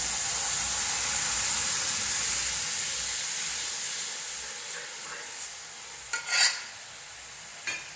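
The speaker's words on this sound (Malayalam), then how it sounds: "ഇനി നമുക്കിവിടെ വേവിച്ച് വെച്ചിരിക്കുന്ന ഈ പരിപ്പിൻ്റെ മിക്സ് ഒഴിച്ചു കൊടുക്കാം." Cooked lentil mix poured into hot tempering oil for drumstick-leaf rasam, producing a strong hiss that fades over several seconds, followed by a few faint utensil clinks.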